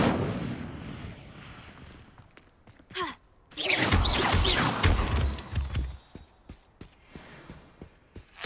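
An Incendio fire spell is cast in Hogwarts Legacy on hard mode, a sudden whooshing burst followed by a roaring crackling flare, with smaller snaps trailing after.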